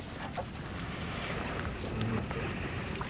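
Steady wind gusting across an open angling bank beside water during a 1988 fishing championship, a broad continuous rushing roar filling the clip at moderate loudness with no voices.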